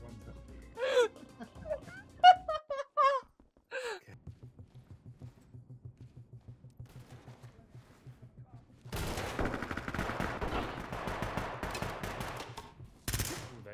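Gunfire in the tactical shooter Ready or Not: a dense rattling burst of shots later on, ending in a final sharp crack, after stretches of breathy voices and quieter game sounds.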